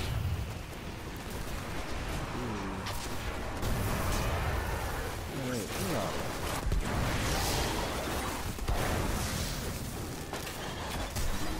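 Heavy artillery fire in the Destiny video game aboard the Dreadnaught makes a dense, continuous roar of booming blasts, loud and unbroken throughout, with rumbling low thuds layered under crackling bursts.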